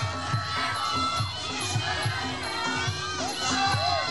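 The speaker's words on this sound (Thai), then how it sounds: "เอากองเชียร์ดังๆครับ" A crowd at a Muay Thai boxing event during Songkran cheers and shouts continuously, a loud, dense roar of voices with an announcer talking over it.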